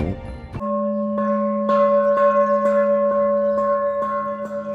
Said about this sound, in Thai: เมื่อได้ยินสัญญาณระฆังที่วัด